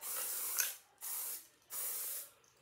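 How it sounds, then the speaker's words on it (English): Kenra 25 hairspray sprayed onto a wig in three steady, close hissing bursts of about half a second each, separated by short pauses, with no voices. "Then sprayed her with some Kenra 25."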